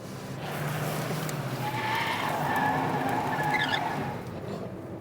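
Car tires skidding and squealing under locked brakes during a race between cheap Suzuki and Peugeot hatchbacks, a sustained tonal screech over steady engine roar lasting several seconds.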